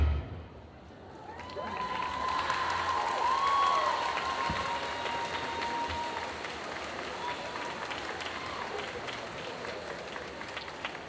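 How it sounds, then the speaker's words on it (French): An audience at a cosplay contest at Metztorii 2022 claps and cheers, the applause swelling to a peak within a few seconds and then tapering gradually, with a sustained musical tone and some voices in the hall. "On applaudit encore bien fort."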